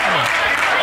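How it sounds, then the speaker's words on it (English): Wrestling crowd at a SoCal Pro event cheering and applauding, a dense roar of voices and clapping filling the brief moment, with commentary talk over it. "The crowd's loving it"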